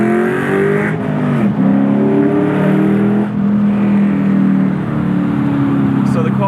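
A car fitted with longtube headers revs on a hillside road near Virginia City, its exhaust a loud, throaty drone with rising and falling pitch, rumbling continuously up close.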